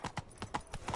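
Horse hooves of the mount Roach in the video game The Witcher 3, a quick run of soft rhythmic clip-clop beats, about six strikes in one second, fairly faint and alone.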